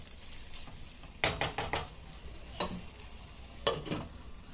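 Potato bhaji in a pan on the stove is stirred with a spoon, giving a cluster of quick scraping knocks followed by two single strokes over a faint, steady sizzle.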